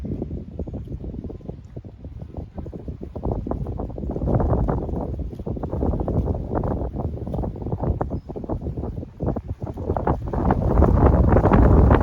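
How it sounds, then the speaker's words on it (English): Gusty wind buffets a microphone outdoors beside beehives during a spring hive inspection, a loud, continuous rumbling roar that rises and falls and swells toward the end. "There's that wind."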